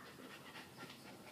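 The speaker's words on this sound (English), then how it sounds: "that's my dog, Lucy." A dog pants in quick, steady, breathy rhythm indoors, faint but close, with no talking.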